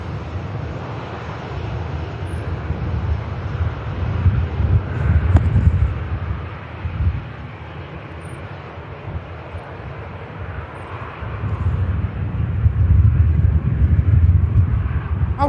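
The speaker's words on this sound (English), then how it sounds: "How considerate of the 380 to be coming in on the runway in front of us" An Airbus A380 airliner landing on the runway at Manchester Airport, a steady low jet rumble rising and swelling in the distance, mixed with wind buffeting the microphone.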